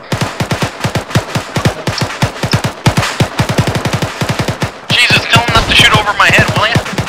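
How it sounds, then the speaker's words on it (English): Suppressing fire in ArmA 3 rattles in fast, close machine-gun bursts with tightly spaced shots, continuing steadily for several seconds and joined by a harsher, denser layer of fire near the end. "Bravo, suppressing fire."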